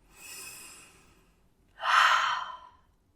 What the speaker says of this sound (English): Like take a really deep belly breath.